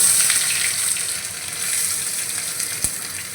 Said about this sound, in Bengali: জিরেটা আমার ভাজা হয়ে গিয়েছে তো এবার প্লেটের মধ্যে যে পেঁয়াজটা আমি কুচি করে রেখেছিলাম এই কুচনো পেঁয়াজটা আমি দিয়ে দিচ্ছি